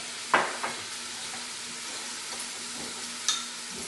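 Sauce ingredients, including Jim Beam Southern Twang, are stirred together for Instant Pot pulled pork. Faint, soft mixing runs quietly with a couple of sharp clinks near the start and end.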